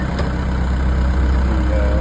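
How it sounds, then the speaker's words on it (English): A sailboat's inboard engine idles to charge the batteries and heat the water tank on a lake passage from Leamington to Port Dover, a steady low rumble running unbroken and fairly loud throughout. "The engine's running to charge the batteries and heat the water in the water tank."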